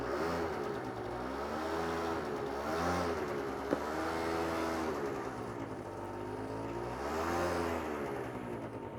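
A scooter ridden on a slow-speed practice area for a learner's licence, its small engine repeatedly revving up and easing off in wavy rising and falling whines, moderately near, with no talk.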